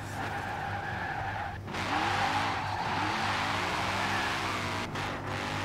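A truck drives in the Forza Horizon 4 racing game. Its engine holds a steady rumble while the tires skid and squeal and the engine note sweeps up and down, with brief dips where it eases off.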